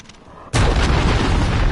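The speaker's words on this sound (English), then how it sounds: "Missile incoming" A Call of Duty missile strike lands as a sudden loud, close blast that follows a quieter lead-in, then a sustained roaring rumble that holds to the end.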